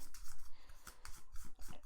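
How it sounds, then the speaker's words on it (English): Board game cards being shuffled by hand in a quick, rustling flurry of soft riffles and scrapes, close and quiet with no talking. "I shuffle my discard pile"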